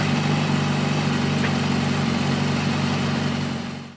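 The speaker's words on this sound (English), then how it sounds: "A deep rhythmic potato-potato rumble comes from the V-twin engine's unique design and uneven firing intervals." Harley-Davidson V-twin motorcycle engine idles with a steady, deep uneven rumble, loud and close, holding constant before fading out at the end.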